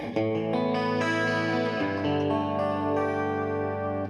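A clean electric guitar rings out a few sustained chords with a shimmering, doubled chorus effect, close and bright with no voices.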